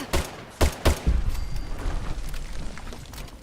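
An explosive Crusader pistol in Fallout 76 fires with a few sharp, booming reports early on, then a rumbling tail of smaller blasts and crackle that fades out.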